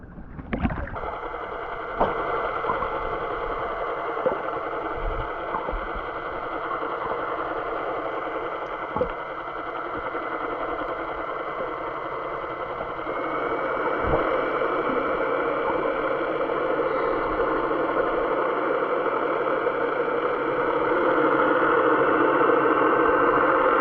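Sailboat's inboard engine starts with a brief crank and settles into a steady mid-pitched idle, then runs harder as it pulls back to reset the anchor, droning continuously and close with occasional knocks.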